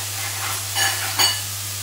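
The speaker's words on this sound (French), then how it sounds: "je vais laisser les champignons suer pendant quelques secondes" Mushrooms sweat in a hot pan with a soft, steady sizzle and hiss, broken by a couple of brief louder stirring bursts, with a low constant hum beneath.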